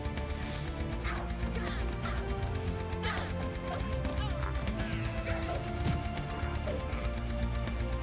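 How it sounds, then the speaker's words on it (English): Repeated smashing and crashing impacts ring out as a wall and a gargoyle are broken in the online game DDO, sharp hits recurring over a dense bed of game music and effects. "Here again, we've got this wall that we need to break, and the gargoyle"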